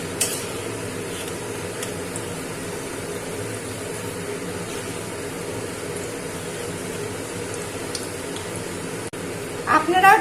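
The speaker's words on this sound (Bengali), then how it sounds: "এই দেখুন বন্ধুরা, আবার কি সুন্দর ভাজাটা হচ্ছে" Homemade crispy chicken nuggets fry in hot oil with a steady, fine sizzle that runs without a break, and a brief clatter of utensils comes near the end.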